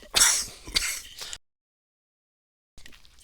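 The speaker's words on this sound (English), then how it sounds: "All right, cleared my throat in your ear anyway." A short, harsh throat clearing up close, two rough bursts, then sudden silence before a faint noise returns.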